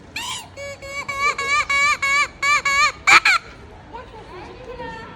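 A flute plays a run of short, sharp repeated notes mimicking a hen's clucking, followed by one higher squawk and then faint background noise.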